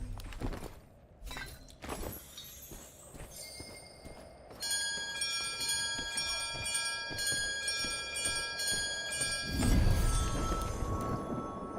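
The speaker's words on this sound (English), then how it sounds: "Oh, the bell sound is beautiful." Bell ringing in the video game Mistfall Hunter, with sustained bright metallic tones layered over clanks and scattered impacts, followed by a louder burst near the end.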